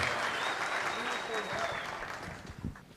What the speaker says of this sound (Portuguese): Vamos aplaudir o Fernando!